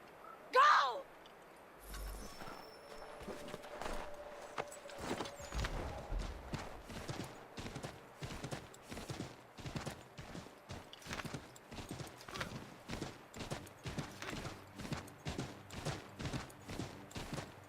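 Horse hooves gallop in the video game Assassin's Creed III, a steady rapid clip-clop rhythm that starts after a brief thud and runs continuously, with voices speaking over parts of it.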